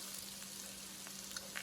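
Parmesan-crusted pork chops frying in a pan, a continuous soft sizzle and crackle of hot oil with small pops, steady and fairly faint, no voices.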